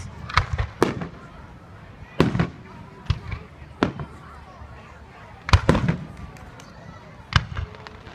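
Outdoor fireworks burst at a distance in scattered sharp bangs and crackles, about eight separate explosions spaced irregularly over a quiet background.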